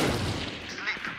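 Gunfire in Valorant, a short burst of sharp shots over noisy game sound, with a voice talking in the background.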